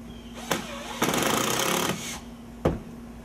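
A power drill driving screws into pre-drilled wooden studs for a window header: two brief bursts, then a sustained loud whirring run of about a second, then another short burst, all close.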